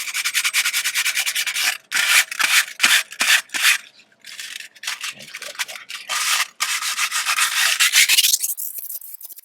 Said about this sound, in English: I'm using this sandpaper and gently working all my way around this flange.